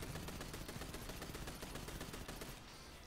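Rapid pistol gunfire in the video game Destiny 2, a dense stream of loud, close shots in quick succession, easing off near the end.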